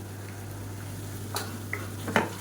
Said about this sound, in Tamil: மீடியமான ஃப்ளேமில் நல்லா வதக்கி விட்டுக்கலாம்